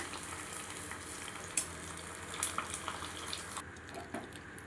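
Vermicelli-coated paneer fingers deep-frying in hot oil, a constant dense bubbling sizzle with occasional light clinks as pieces are turned, close by.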